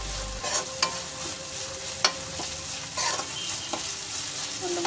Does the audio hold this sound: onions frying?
yes